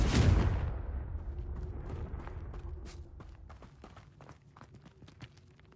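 A Confringo blasting curse from the Hogwarts Legacy video game goes off in a loud burst that booms and rumbles, then dies down into a trail of scattered clicks, patters and debris sounds with no speech.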